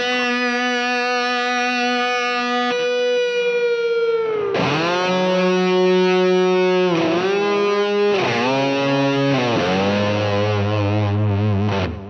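Distorted electric guitar plays a solo, sustained bending notes and slides with heavy effects, loud and alone.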